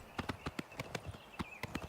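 Hooves of a bay horse galloping in the video game Oblivion Remastered, a steady clip-clop rhythm of sharp, close hoofbeats repeating at a quick pace with no talking.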